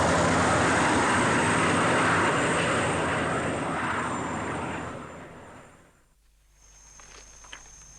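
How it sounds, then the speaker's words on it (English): Loud roaring engine noise from Rwanda Air Force military helicopters arriving, with rotor-like rushing close by, slowly fading away and dropping to near quiet near the end. "The helicopters of the Rwanda Air Force had now arrived."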